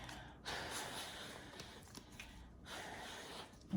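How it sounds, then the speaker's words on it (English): Two soft breathy puffs blown across a deck of tarot cards, each a short airy rush of breath, close and quiet with no talking. "I'm going to blow on the deck"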